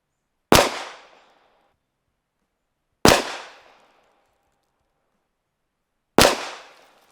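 Three sharp pistol shots, evenly spaced a few seconds apart, each decaying quickly into silence while a red dot sight is zeroed outdoors; loud and isolated, with no talking.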